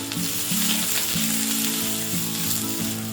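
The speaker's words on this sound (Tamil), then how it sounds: "இது எல்லாத்தையும் போட்டு லைட்டா வதக்கிடலாம்." Onion, garlic and slit green chillies sauté in a pan for cauliflower dhal kootu, a loud continuous sizzle with low humming tones underneath and occasional stirring movement.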